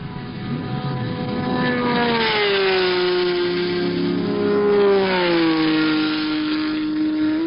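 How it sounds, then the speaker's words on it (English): A loud engine roar holds steady throughout, its pitch sliding slowly downward as a racing car sweeps past near 200 mph at the 1970 Sebring 12 Hours, with no talking. "Here the cars reach maximum speed, the fastest ones close to 200 miles an hour."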